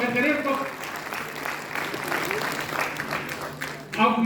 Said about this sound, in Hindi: मुक्त हाथों से ताली बजाकर स्वागत करें उसको